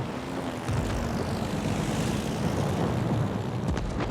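Carrier aircraft in World of Warships: Legends drone past with a steady propeller roar, loud and continuous with no talk.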